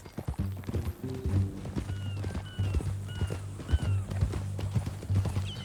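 Horse hooves in the video game Red Dead Redemption 2 clip-clop at a walking pace nearby, with a steady low hum and a few faint bird chirps in the background.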